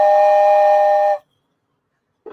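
A loud, steady steam-style whistle blown once for about a second, then a sudden cut to silence with a faint sound starting at the very end.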